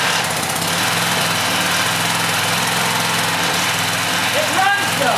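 A gas pressure washer engine runs steadily up close with a loud, even buzzing drone just after the choke is taken off, as a person talks nearby.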